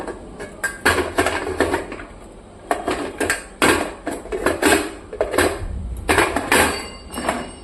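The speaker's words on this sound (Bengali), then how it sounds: "এবার কিন্তু এটাকে আমি ঢাকা দিয়ে দিব" Metal cookware clanks and clinks repeatedly as a lid is set over a pot of potato biryani, a series of close, sharp knocks and rattles in uneven bursts with no talking.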